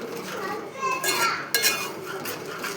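A spoon stirring beetroot sweet batter in a pot, with clinking and scraping against the metal while background voices, including a child's, carry on nearby.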